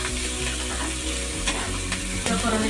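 Sorghum (jonna) grains fry in a pan with a loud, steady sizzle and crackle, stirred now and then with soft scraping, close and continuous throughout.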